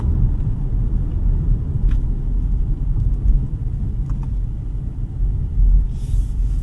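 A 2025 BMW 520i (G60) with a four-cylinder engine, driving on the road, heard from inside the cabin as a steady low engine and road rumble without pause and no talk.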